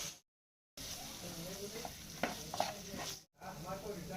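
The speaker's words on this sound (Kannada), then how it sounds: "ಬಟಾಣಿ ಹಾಕಿ ಮಿಕ್ಸ್ ಮಾಡೋಣ ರೀ" A spoon stirs potatoes and peas through a frying pan with a soft scraping sound over a low sizzle. The sound is quiet and close and cuts out briefly twice.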